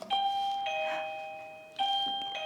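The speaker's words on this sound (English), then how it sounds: "And then the bell" An electronic classroom bell chimes twice, each a clear, sustained two-tone ding-dong that rings out and slowly fades, loud and near with no talking.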